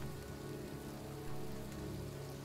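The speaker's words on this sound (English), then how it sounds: "It's cold. It's raining. I'm standing outside getting soaked." Steady rain pours in the outdoor scene of the video game Heavy Rain, a dense, even wash of drops on surfaces running without a break and fairly quiet, with no voices over it.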